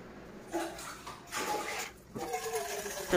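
Water is drawn into a vessel for tea in a home kitchen, making a few faint, short splashing and pouring bursts over about three seconds.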